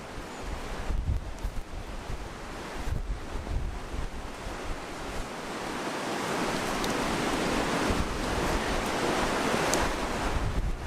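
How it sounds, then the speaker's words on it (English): Strong gusty wind roars outdoors, buffeting the microphone in heavy rushing waves that swell and ease, building to a sustained loud blast in the second half. "The wind is unbelievable here at the moment."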